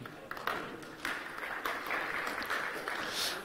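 Conference audience applauding after a talk on responsible AI, scattered clapping that swells to a steady wash of many hands, moderately distant and fairly quiet in the room.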